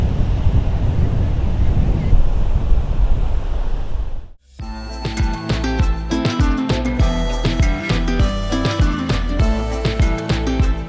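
Sea waves roll and hiss steadily onto a beach in Surat as the tide comes in, mixed with gusting wind against the microphone, before the sound cuts abruptly to a busier, clattering scene.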